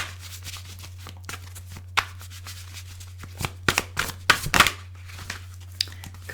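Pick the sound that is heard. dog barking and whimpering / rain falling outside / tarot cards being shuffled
tarot cards being shuffled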